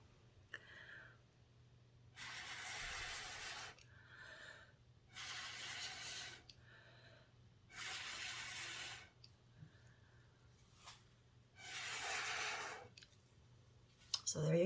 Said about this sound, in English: So I have my straw, just my regular old straw, and I'm just going to start blowing.